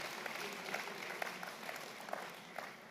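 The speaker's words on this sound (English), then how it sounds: "I think we need a round of applause for that." Applause at a university's tenth-anniversary celebration, a steady wash of many hands clapping from an audience, with a few sharper claps standing out throughout.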